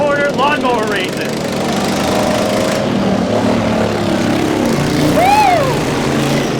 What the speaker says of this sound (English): this is the Richmond Corner Rec Center, where the lawnmower races are held every summer